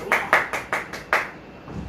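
Audience at a school talk claps in a short burst of about six sharp, evenly spaced hand claps, fairly close, then trails off into quiet.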